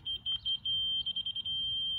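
Laser level receiver on a foundation and block pour gives a string of quick high electronic beeps, then a steady held tone, close and clear over low site rumble.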